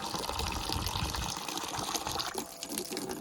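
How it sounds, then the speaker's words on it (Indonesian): Water being poured into a mixture being prepared as paint for durian tree trunks: a continuous, close splashing gush that runs steadily for a few seconds without talk. "Kita tambah air sedikit lagi."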